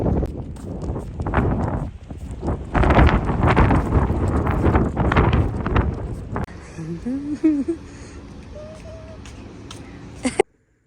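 Heavy gusts buffet the microphone with loud low rumbling, then ease off; a person talks briefly partway through.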